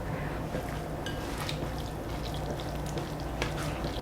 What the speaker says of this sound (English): I like to add the soy sauce and the sake right now to the beef.